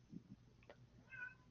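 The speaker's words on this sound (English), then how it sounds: "Sorry if you hear my cats in the background, they're a little noisy today." A house cat gives a single faint meow in the background, short and high, following a couple of soft low thumps in an otherwise quiet room.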